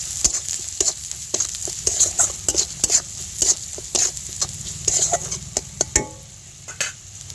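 Spices with coriander powder, cumin powder and salt are stirred in a pan for a singara filling, giving irregular sharp scraping clicks of a spatula over a faint, thin sizzle, close up and without speech.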